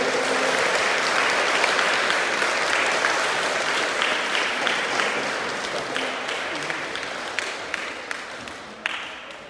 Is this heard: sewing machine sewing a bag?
no